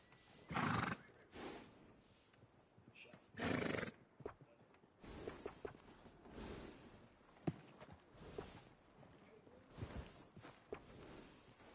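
Horse neighing in Red Dead Redemption 2, several loud whinnies and snorts spread across the stretch with hoof clops and scattered game sounds between them, no talking.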